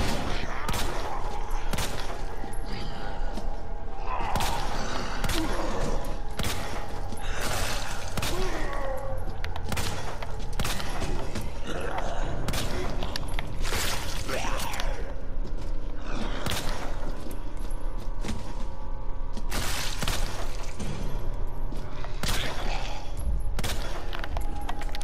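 Gunshots ring out in the video game Resident Evil 2 Remake, firing in scattered bursts of sharp reports across the whole stretch against a busy game soundscape.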